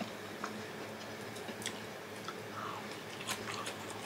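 Thin eight-slice toast being chewed, soft crunchy bites heard close and fairly faint as a few irregular crackles over a quiet indoor background.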